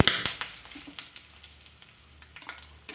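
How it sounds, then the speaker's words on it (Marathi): Chopped onion, a plateful, frying in oil for sambar, sizzling steadily with soft crackles and a few stirring scrapes, close and moderately loud without any talk. "तेलामध्ये कांदा भाजून घालायचा म्हणजे मस्त चव लागते एकदम"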